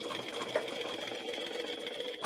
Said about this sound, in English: I'm just going to baste all the way around where I clipped using 1/8 of an inch seam allowance